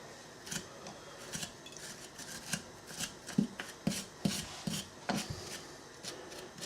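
Sandpaper is rubbed over Myford lathe parts by hand in quick, uneven strokes, a close, quiet scratchy rasping with irregular bursts.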